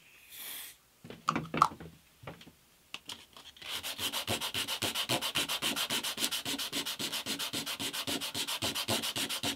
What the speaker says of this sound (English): Spot of super glue and some more sanding.